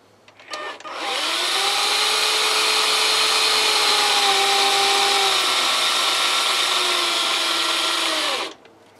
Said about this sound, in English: All we do is put the power drill on.